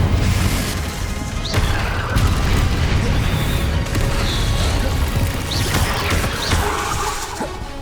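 A Confringo explosive spell blasts in Hogwarts Legacy amid dense game combat, heavy booming impacts and crashing debris over a constant rumbling bed, loud and close with brief sharp whooshes.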